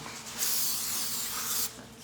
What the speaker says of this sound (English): you can start spraying it